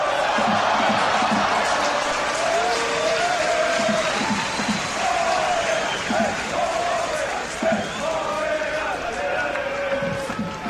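Stadium crowd of about 13,000 at a sold-out Saputo Stadium soccer match, a steady distant roar of murmuring with occasional thumps, under a commentator's voice.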